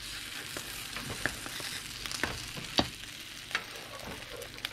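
A bitter melon omelette fries in a pan with a steady soft sizzle, punctuated by several light scrapes and taps of a spatula as it is flipped.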